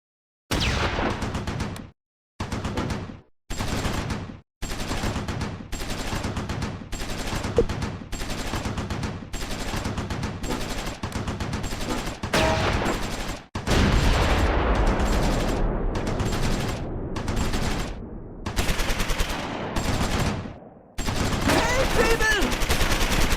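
Sustained gunfire and machine-gun bursts from the Close Combat 4 World War II game, Battle of the Bulge at Simmerath, as German infantry assault: dense, loud repeated volleys with brief gaps, heavier and continuous in the later part.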